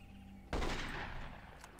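Gunfire in the jungle warfare video game Marine Sharpshooter 2: a sudden loud burst of shots erupts after a quiet moment, then trails off into a reverberant fading rumble, with no talking.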